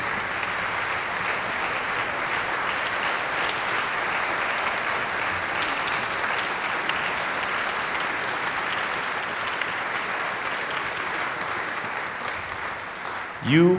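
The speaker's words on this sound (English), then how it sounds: "would you please stand and receive a hearty round of applause?" A concert audience gives band directors and private teachers a long, steady round of applause, dense and even throughout, with a voice breaking in just at the end.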